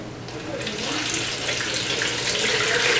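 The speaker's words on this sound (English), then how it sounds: "So let's drain this one off." Water kefir is poured off its grains into a container, a steady splashing, trickling stream that builds slightly in loudness and runs continuously for a few seconds.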